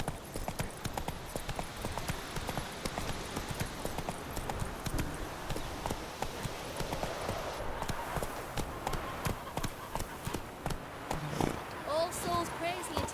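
Horse hooves clip-clop at a steady galloping rhythm in The Witcher 3, a continuous close thudding beat running under faint talk for the whole stretch.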